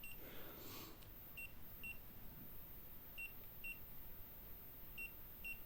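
An EMF detector, set off by phone network interference, chirps in repeated pairs of short, high beeps at steady intervals. The beeps are faint over a constant background hiss.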